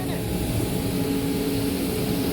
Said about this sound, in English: And he's using the leaf blower.